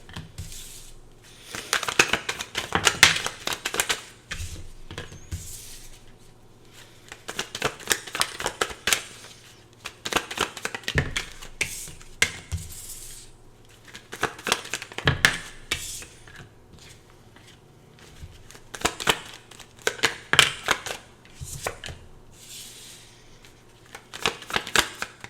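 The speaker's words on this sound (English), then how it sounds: "Just give me a minute to pull some tarot cards to kind of see what's going on" Tarot cards are shuffled close by in repeated bursts of papery riffling and rubbing, separated by short quiet pauses, with no voices heard.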